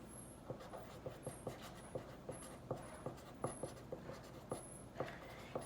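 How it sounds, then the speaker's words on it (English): Math equations written out by hand, close and quiet, with short regular scratchy pen strokes and taps and a dog panting faintly in the background. "And let me just write this."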